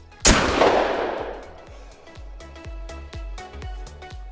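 A single sharp, loud shotgun blast rings out at a wild boar in TheHunter Call of the Wild, its echo decaying over a second, followed by a quick run of evenly spaced mechanical clicks and thumps.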